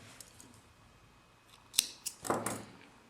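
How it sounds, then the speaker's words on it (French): Scissors snip crochet yarn at the end of a small sheep-shaped coaster, making a few quiet, close clicks and a short cutting rustle in an otherwise hushed room. "Je coupe mon fil"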